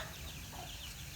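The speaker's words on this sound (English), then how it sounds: "There is ducks, hybrid hens," Hybrid hens clucking among ducks and other birds in a farm setting, a steady distant chorus of bird noise with no talk.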